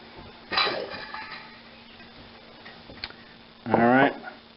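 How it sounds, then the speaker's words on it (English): Eggs cracked against a bowl edge in a home test kitchen while making Cajun caper tartar sauce, two sharp taps a few seconds apart, close and clear over quiet room tone. "Now, we are going to crack a couple eggs here."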